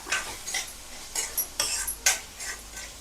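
Ground coriander-cumin powder and red Malvani masala stirred and sautéed in a pan for a jackfruit curry, with a spoon scraping and clinking in uneven strokes, close and fairly quiet, with faint sizzling beneath and no talking.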